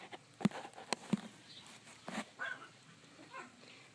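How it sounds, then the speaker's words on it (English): Dogs barking in a backyard on a cool West Texas morning, a few sharp barks and yips scattered over several seconds, fairly faint and distant against quiet outdoor air. "You hear the doggies in the backyard."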